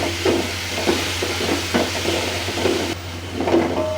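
Fried meat with tomatoes and green chilies being stirred in a pan while cooking haleem: a rhythmic series of spoon scrapes and soft clanks about every half second over a low, steady sizzle and background hum.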